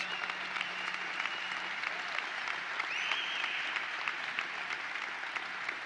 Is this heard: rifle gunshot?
no